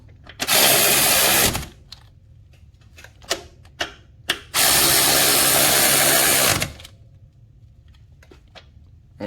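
Power tool driving home the two brake caliper bolts on a Can-Am Gen2 side-by-side during a brake job, heard as two long, loud, steady whirring bursts with a few sharp clicks between them.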